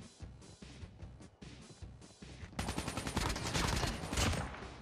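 Bursts of gunfire in a mobile shooter game: a few scattered shots and then a sustained, loud rattling fusillade of rapid automatic fire.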